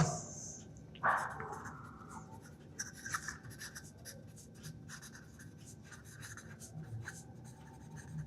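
Faint scratching of writing during a class 8 maths lesson on Pythagoras' theorem, soft and steady with a slightly sharper stroke early on, alone with no talk.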